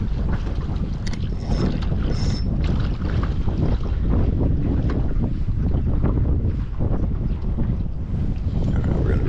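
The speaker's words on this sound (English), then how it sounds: "That's what I'm talking about with the wind, guys." Strong wind roars and buffets the microphone continuously while trolling from a small boat on a small lake for trout, with water and hull noise underneath and no talking.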